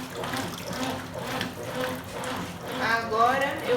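Water rushes steadily into the tub of a Consul Super Cargo 8 kg washing machine loaded with towels, a continuous close splashing flow that swells slightly toward the end.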